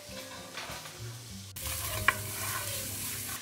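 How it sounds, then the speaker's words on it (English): Garlic drops into a hot pan and sizzles up suddenly into a steady crackling hiss, with a brief metallic clink of a utensil, over quiet background music. "I'm going to add the garlic."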